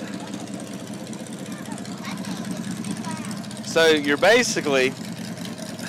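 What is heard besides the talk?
dragster engine idling in a Christmas parade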